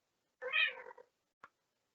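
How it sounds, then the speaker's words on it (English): A small cat gives one clear, close meow, followed after a short pause by a brief soft chirp in an otherwise silent room. "My little cat's so noisy."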